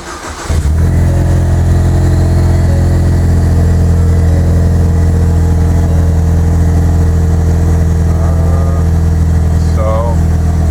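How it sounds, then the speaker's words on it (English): A car with a newly installed performance pack oil pressure gauge cranks and starts, then settles into a loud, steady rumbling idle close to the microphone, with brief faint talk near the end. "Go ahead and start the car."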